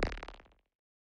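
Designed sound effect layer for a wub gun, with a gelatinous, textured quality: a brief, faint, wobbling burst that decays quickly into silence within about half a second.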